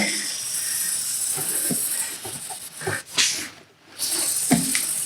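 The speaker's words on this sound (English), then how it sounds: "Just gonna give that another good spray." A long hissing spray of aerosol chain lube on a Ducati 899 Panigale motorcycle chain, close and steady, broken by short clicks and a pause before the spraying resumes.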